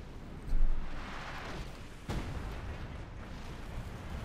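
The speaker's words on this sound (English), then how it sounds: "machine guns there getting pummeled by the 25-pounder guns" British 25-pounder artillery guns fire in Company of Heroes 2 during a strategy battle. Two heavy booms stand out, one early and a sharper one about halfway through, over a constant roar of battle noise, with no talking.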